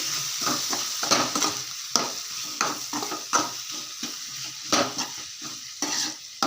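Grated fresh coconut being stirred into a cowpea curry in a pan, a steady scraping and sizzling stir with repeated strokes and occasional louder knocks, close and continuous with no talking.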